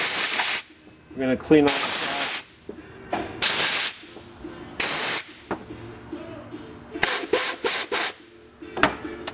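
Short bursts of compressed air blasting across a car overdrive valve while cleaning it, several loud hissing spurts of varying length with brief gaps, close to the mic, with someone talking between them.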